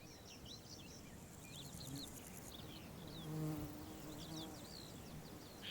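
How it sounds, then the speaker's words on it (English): Honeybees and other wild bees buzz steadily around blackberry blossom in a forest, a continuous insect drone with faint bird calls in the background. "Sometimes honeybees even compete with each other."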